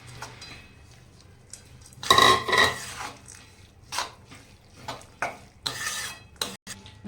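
A spoon stirs broken bhakri pieces into melted jaggery in a pot, making intermittent scraping and clinking bursts of metal against metal, close and uneven, with quiet pauses between strokes.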